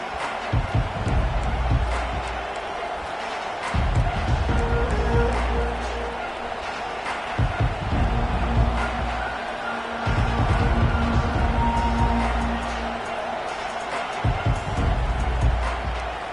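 A roaring football stadium crowd at a Tennessee versus LSU college game, a dense continuous wash of cheering that swells and ebbs in waves, with a commentator talking over it.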